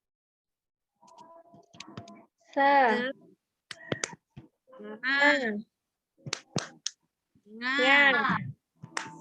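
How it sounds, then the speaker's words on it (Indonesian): A classroom micro-teaching workshop group performs the 'tepuk semangat' spirit clapping routine: sharp, sparse claps fall between loud chanted syllables from several voices. "Kita mulai tepuk semangat."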